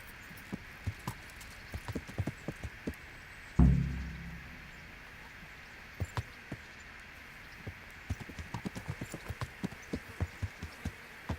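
Horse hooves clip-clop at a steady walking rhythm in the medieval game Kingdom Come: Deliverance, close and distinct, with a brief heavy thud partway through and game ambience behind.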